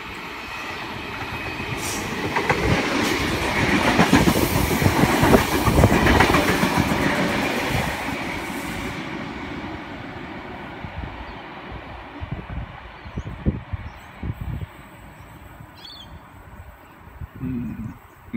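A Sydney Trains V-set passenger train, set V48, runs past at a suburban station, a loud steady rumble of wheels on track with rhythmic clickety-clack clicks that slowly fade as the carriages roll by.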